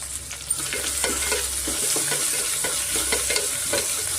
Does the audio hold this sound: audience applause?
no